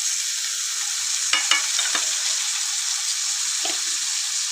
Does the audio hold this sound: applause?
no